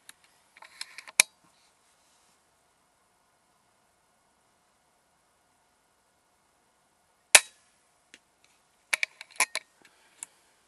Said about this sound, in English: So this is shooting into my capture box.